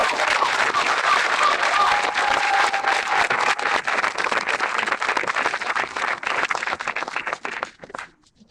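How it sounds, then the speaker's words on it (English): Audience applause at a 2023 Celebration of Excellence event, welcoming a chorus: loud, sustained crowd clapping with distinct hand claps that thins and fades out near the end. "Let's give a round of applause."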